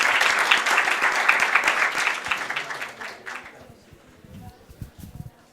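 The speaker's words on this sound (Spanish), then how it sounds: "A todos un fuerte aplauso y bienvenidos." Warm applause from an audience welcoming new members at a Spanish-language formal session, strong dense clapping for about three seconds that dies away into a few scattered claps and quiet room noise.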